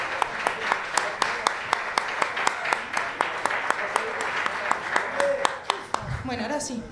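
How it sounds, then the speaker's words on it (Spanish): An audience at a live show applauds, a sustained patter of many hands with a few sharp, evenly spaced claps standing out near the front, then the clapping drops away and a voice and other sounds take over. "Un aplauso, por favor."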